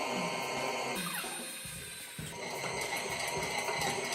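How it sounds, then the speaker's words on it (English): A stand mixer kneading hot cross bun dough at about medium speed, giving a close, steady mechanical whir with rhythmic knocking and clicking from the machine; no talking. "we're going to basically mix it until the dough starts to pull away from the bowl"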